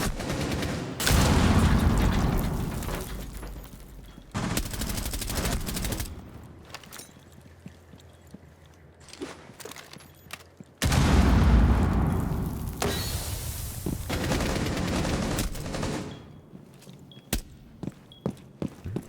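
First-person shooter gunfire in dense, loud bursts of rapid shots with quieter gaps between, scattered single reports and footstep-like ticks filling the lulls, over a constant game background.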